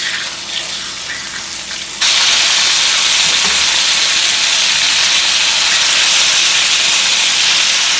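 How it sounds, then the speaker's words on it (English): Food frying in a pan gives off a steady, loud sizzle that swells abruptly about two seconds in and then holds as a dense hiss to the end, with no talking. "And now I'm gonna fry this here."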